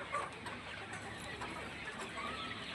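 A flock of about 550 to 600 Sonali hens and roosters on a farm cluck in a faint, continuous, crowded murmur, with no distinct single calls standing out and no speech.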